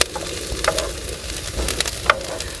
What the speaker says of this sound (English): So while the onion sweats one little bit more